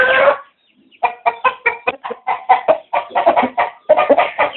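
Bearded chickens clucking loudly and close by, a rhythmic series of short hen calls after an opening squawk and a brief pause.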